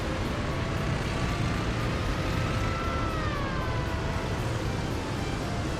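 Emergency vehicle sirens wail in the city-building game Workers and Resources, thin and slowly sliding above a dense, steady wash of traffic and ambient noise, moderately distant.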